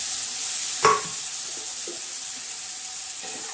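Bitter gourd pieces frying in a pan of black masala, giving a steady, soft sizzling hiss with one brief clatter near the start, no voices.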